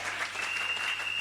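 Congregation applauding in a church service, a steady wash of clapping hands filling the space at moderate volume, brief and continuous without pauses.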